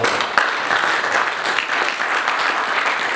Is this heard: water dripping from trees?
no